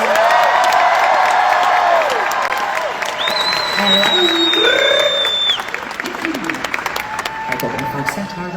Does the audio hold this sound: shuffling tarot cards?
no